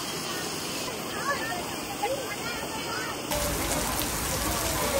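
Heavy rain suddenly pours down in Da Nang, Vietnam, a dense, hissing wash of drops that swells abruptly louder partway through, with faint voices beneath.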